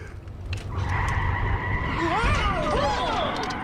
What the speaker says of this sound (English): Why did they slam on the brakes too?